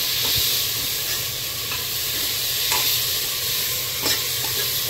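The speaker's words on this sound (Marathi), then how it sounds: "मातशें आता रावया, मातशें तेका फ्राय जावन।" Cut potatoes coated in masala fry with a loud, steady sizzle and hiss while a spoon scrapes and stirs them in the pan at irregular intervals.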